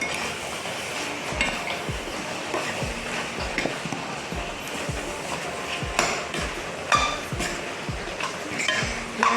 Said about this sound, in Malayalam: നല്ല ഇളക്കി കൊടുക്കണം